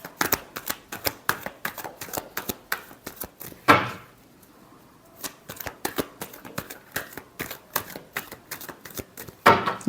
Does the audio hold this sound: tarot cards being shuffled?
yes